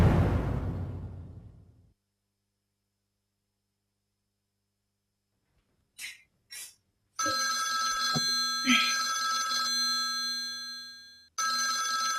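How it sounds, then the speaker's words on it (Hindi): After a fading sound and a long silence, a few short chirps lead into a phone ringtone that plays for several seconds, pauses briefly, then resumes. "ये अननोन नंबर से किसका फोन है? कौन हो सकता है?"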